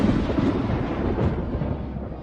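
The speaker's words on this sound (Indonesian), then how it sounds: "Badai petir, di depan!" Rumbling thunder from a thunderstorm in an animated film, a dense continuous low roar that stays loud throughout with no clear talk over it.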